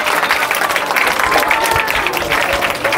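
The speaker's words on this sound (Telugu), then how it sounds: "చప్పట్లు చప్పట్లు కొట్టరేంటి" Children clapping together in a burst of applause, loud and close, a dense continuous patter of many small hands lasting throughout, with faint crowd murmur beneath.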